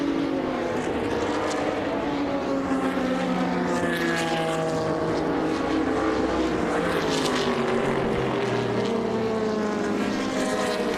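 Racing cars, including a 1969 Porsche 908-02, drive through the braking zone into the Andretti hairpin at Watkins Glen, heard as a distant, washing engine drone with shifting pitches that rise and fall over about eleven seconds.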